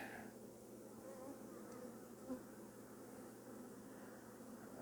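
Honey bees drone softly during a first inspection of a new hive eight days after installation, a faint, continuous buzz in a quiet setting with a brief rustle midway.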